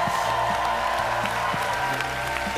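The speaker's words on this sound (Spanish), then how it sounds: "Escucha ese aplauso, Jonathan" A theater audience at a Got Talent Chile quarterfinal applauds in a sustained, even wash of clapping with faint cheers, while a low musical tone runs underneath.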